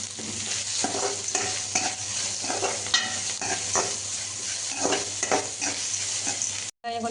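Sliced onions fry in a pan for a drumstick-leaf stir-fry, a loud close sizzle with repeated spatula scrapes and stirring strokes, briefly cut off near the end.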